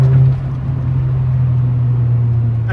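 The exhaust of a 2000 fifth-generation car with a Magnaflow aftermarket muffler replacing the stock one drones at a steady deep pitch, a constant low rumble close by with no change in revs.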